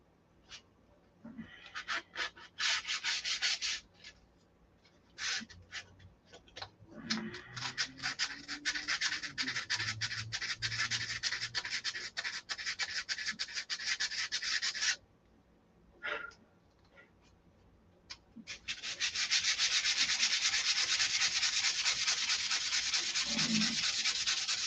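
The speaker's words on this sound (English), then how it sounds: "Sanding it off." Paint is being sanded off a Viper sports car. Close, dry rasping strokes come in rhythmic bursts with short pauses, then turn into a continuous scrub near the end.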